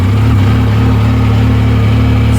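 A Yamaha YXZ1000R side-by-side engine runs close and loud with a steady, droning low rumble and no change in pitch.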